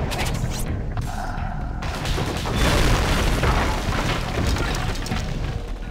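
A pagoda is destroyed in the video game BloodRayne 2, producing a loud rumbling explosion with creaking, crumbling debris that swells and sustains for several seconds.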